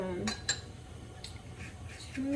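A spoon stirs salt and spices into a bowl of yogurt sauce, giving a few soft clinks and scrapes against the dish, with a brief voice near the start and end.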